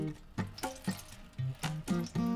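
Water poured from a tap into an indoor Japanese tabletop grill, several short splashing bursts of filling liquid, close and fairly quiet, with no talking.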